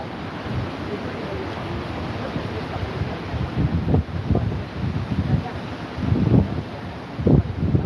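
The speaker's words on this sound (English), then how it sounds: "The wind's just smacking me right in the face at the minute" Strong gusts buffet a handheld microphone outdoors in Benidorm, producing a loud, low rumbling roar that swells and surges in uneven bursts, with a voice faintly mixed in beneath the blustering.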